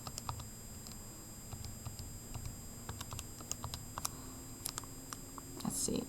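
Quiet, irregular clicks of fingers pressing keys on a calculator keypad, scattered through a faint background hum with no voices.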